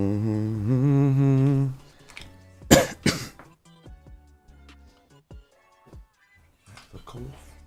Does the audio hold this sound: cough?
yes